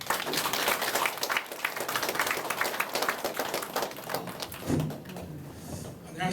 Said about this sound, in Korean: 여러분 이규석 강사님을 뜨거운 박수로